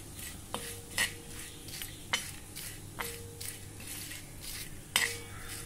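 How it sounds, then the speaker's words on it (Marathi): Whole spices such as cinnamon, stone flower, mace, cardamom, cloves, black pepper and a lump of asafoetida dry-roasting in a pan on low heat, with a spoon clinking and scraping against the metal a few times over a soft background hum. "छान बारीक गॅसवर भाजायचं"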